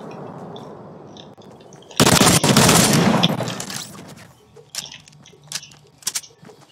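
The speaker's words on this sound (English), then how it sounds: "Yeah, I got a bolt action sniper rifle." Gunfire bursts out in a Fortnite match with a bolt action sniper rifle, a loud sharp blast followed by a decaying rumble and scattered fainter cracks.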